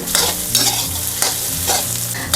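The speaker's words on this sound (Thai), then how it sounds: "เราจะผัดให้เหลืองและมีกลิ่นหอมค่ะ เราจะใช้ไฟอ่อนนะ" Ingredients for duck noodle soup, with shiitake mushrooms, stir-fried over low heat, giving a close, steady sizzle broken by repeated scraping stirs of a utensil against the pan.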